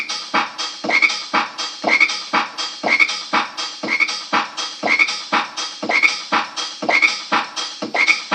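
A frog croaks in a steady, evenly spaced rhythm, fairly close and clear, with no other sounds breaking in.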